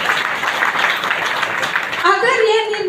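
Audience at a meeting in Prayagraj clapping loudly in a dense burst of applause for about two seconds, then a speaker's voice starts as the clapping fades.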